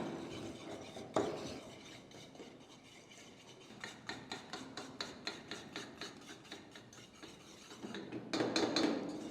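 A spatula rasps and scrapes rhythmically against a pan while a sweet mixture with ghee is stirred, close repeated strokes that speed up toward the end, with no talking.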